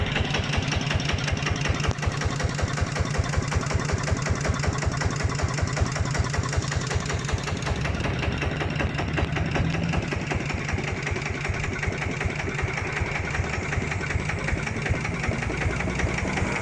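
A small Mitsubishi diesel engine idles steadily with a fast, even knocking rhythm, close by and continuous throughout.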